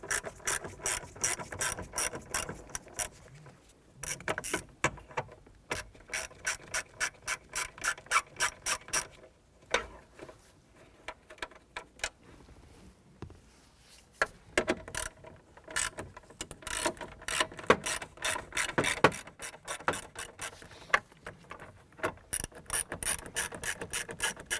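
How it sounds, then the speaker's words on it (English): A ratchet backs out dash trim screws on a 1993-1997 Ford Ranger, producing close, crisp rapid clicking in bursts of steady strokes, separated by short pauses. "pull out our 2 screws right here"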